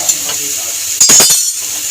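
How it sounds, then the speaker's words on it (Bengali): Spice paste with prawns frying in oil in a pan, stirred briefly: a quiet hiss, then a short burst of a spatula clattering and scraping near the middle, close and fairly loud, with no talk. "একটুখানি চিংড়ি মাছটা দিয়ে মশলাটাকে কষিয়ে নেবো মশলা কষানো হয়েই এসছে প্রায় মশলা দিয়ে তেল ছাড়তে শুরু করে দিয়েছে"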